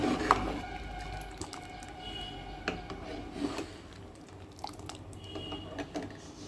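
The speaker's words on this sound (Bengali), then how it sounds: "এইভাবে সমানে নাড়তে হবে" Mango jam with sugar and pectin being stirred in a pot, soft faint wooden scraping and thick squishy liquid sounds with a few sharper knocks.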